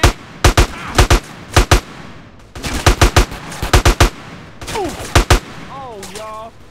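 Gunfire in the GTA San Andreas video game: short rapid bursts of loud, sharp shots in clusters of three or four, separated by brief pauses, with character voices talking in between.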